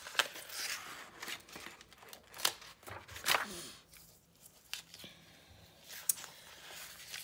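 Scissors snip fabric for fussy-cut quilting pieces, a string of quiet, close crisp cuts and rustles in irregular bursts, with no talking.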